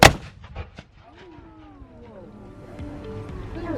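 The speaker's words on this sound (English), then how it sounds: "Both the primer has been set and the gun is ready to fire." A Civil War reenactment cannon at Gettysburg fires with one sharp, loud blast at the very start, then quickly dies away into quiet outdoor ambience with faint voices and a passing engine-like drone.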